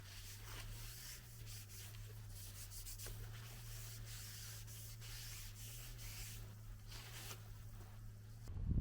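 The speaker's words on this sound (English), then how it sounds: "get a little bit of alcohol and clean any grease and dirt off the area" Tent fabric wiped with alcohol to remove grease and dirt: soft, faint rubbing strokes repeat over a steady low hum throughout, ending with a brief louder rustle.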